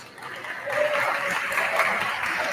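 Warm audience applause for students at a middle school 8th grade ceremony, rising after a quieter start into a steady, full round of clapping that fills the room, with a little faint chatter underneath.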